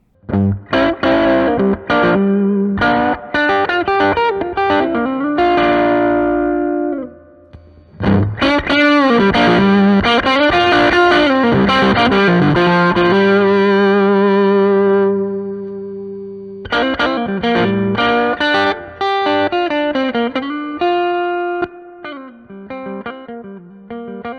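Overdriven electric guitar, a Les Paul through Austin Pride and Scott McKeon overdrive pedals, playing chords and bluesy lead lines, with a brief pause and a quieter, cleaner passage near the end, loud and close.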